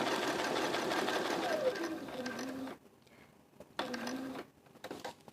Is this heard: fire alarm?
no